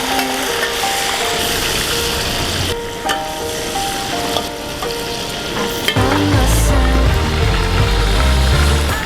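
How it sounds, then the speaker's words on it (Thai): Pork stir-frying in plenty of oil, a steady loud sizzle and crackle with clattering utensil strokes, growing heavier and deeper partway through. "เดี๋ยวเราเริ่มผัดหมูก่อนนะใช้น้ำมันเยอะหน่อยนะ"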